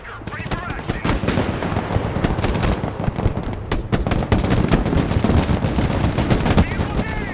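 Dense gunfire from the Broken Arrow military strategy video game: rapid rifle and machine-gun bursts overlap in a loud, continuous battle din, with shouted game voice lines mixed in.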